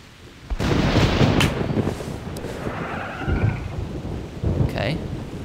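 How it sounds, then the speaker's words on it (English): Rain and rolling thunder in The Hunter: Primal game, a steady hiss of rainfall with loud, low thunder rumbles that swell and fade across the stretch, with no talking. "Now it's raining, and it is making me sad, because it's raining in my game"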